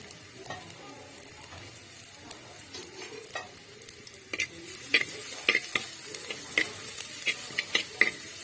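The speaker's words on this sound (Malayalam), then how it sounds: "ഉള്ളി ഇട്ട് കൊടുക്കുകയാണ്" Sliced onions frying in coconut oil in a clay pot, a soft steady sizzle with scattered stirring clicks that grow more frequent and a little louder toward the end.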